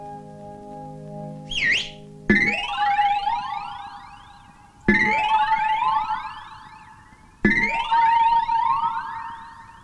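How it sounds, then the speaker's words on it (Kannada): A factory siren wails in a Kannada film, starting with a brief warbling tone and then sounding three loud, separate rising wails that hold and fade, each starting abruptly, with no one talking. "ನಿಮ್ ಫ್ಯಾಕ್ಟ್ರಿ ಸೈರನ್ ಅದು."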